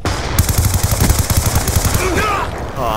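Rapid, continuous gunfire from the video game Call of Duty Black Ops 2, with dense bursts of close automatic shots that run almost without a break and taper off near the end.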